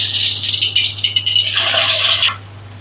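Radhuni seeds and chopped onion dropped into hot mustard oil, a loud close hiss and crackle of frying that rises sharply partway through and then eases off.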